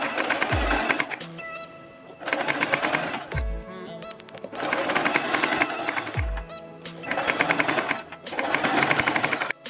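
A sewing machine stitches a strip along a neck design for a moti-trimmed neckline, running in several steady bursts of rapid needle chatter with short pauses between them, close and loud.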